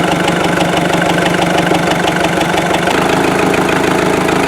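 Loud, close diesel engine of a 1957 Farmall 450 tractor running with a steady rapid chugging rhythm and knocking undertone, continuous throughout without speech.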